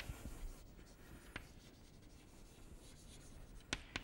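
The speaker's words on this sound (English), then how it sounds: "So let me write this more generally." Pen or chalk strokes writing out mathematics in a quiet lecture setting, soft scratchy rubbing with a few sharper taps, close and alone.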